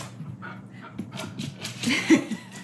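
An excited dog whimpers and yips in short, high squeaks scattered through the moment, getting busier and louder toward the end, with a person talking softly alongside.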